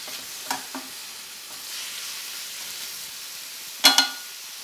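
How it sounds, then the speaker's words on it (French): Cider vinegar splashed into a hot pan to deglaze cooked sugars for celery tagliatelle with bacon, giving a soft steady sizzle broken by a few sharp spitting bursts near the end, with no talking. "On va remettre un tout petit peu de vinaigre de cidre. On va aller déglacer les sucres."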